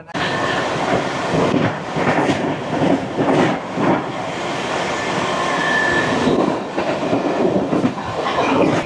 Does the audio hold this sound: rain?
no